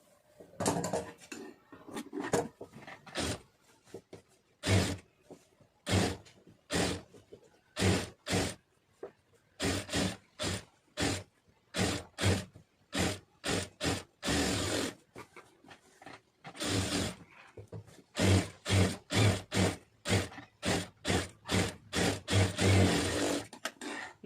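A sewing machine stitching a lining blouse runs in repeated short bursts of rapid, clattering needle action separated by brief pauses. The machine is close and moderately loud, with a steadier run of quick bursts near the end and no talking.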